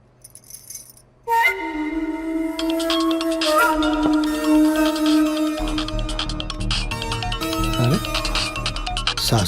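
A mobile phone ringtone for an incoming call from a mother-in-law in a Bhojpuri film scene, a loud sustained melodic tone with shifting pitches that starts after a brief quiet lead-in and rings steadily to the end.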